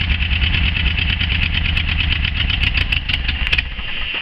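A 1976 VW Camper engine idling after warming up, loud and close, with a steady, fast, slightly uneven chugging throb and some light ticking near the end, with no voices over it.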